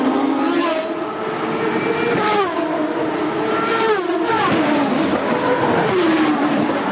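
Race car engines at speed during the 2005 ChampCar race in Australia, a loud continuous roar with rising and falling pitch sweeps as cars pass, with a commentator's voice faintly mixed in.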